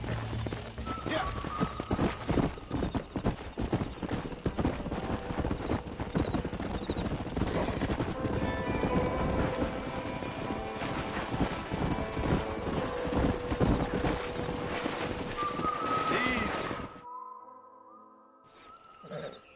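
A horse in the Western video game Red Dead Redemption clip-clops along, hooves pounding loud and steady, with a brief whinny and game sounds mixed in before the noise cuts out near the end.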